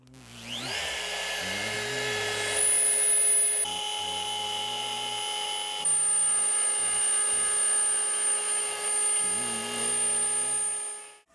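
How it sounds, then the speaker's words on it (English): A router with a 6mm solid carbide bit cuts a truss rod slot into a guitar neck, a loud, close, steady high whine whose pitch dips and bogs down several times as the bit bites into the wood, then winds down. "let's get this truss rod slot routed. I'm using a solid carbide 6mm bit"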